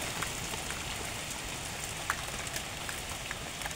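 Steady rain falls on a rainy Canadian morning, a dense, even hiss with occasional sharper drips and patters, close and continuous throughout with no voices.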